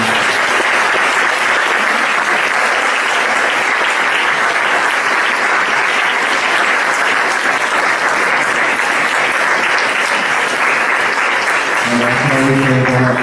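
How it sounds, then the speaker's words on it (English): Sustained, loud applause from a lecture audience at an international school fills the whole stretch without a break, with a faint voice surfacing near the end. "Can I have a round of applause,"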